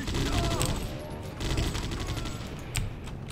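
Rapid bursts of gunfire from the Judge Dredd: Dredd vs. Death video game, dense and continuous across the clip with a few sharper reports standing out, loud and close with no talk.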